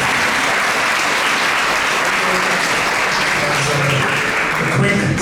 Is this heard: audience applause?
yes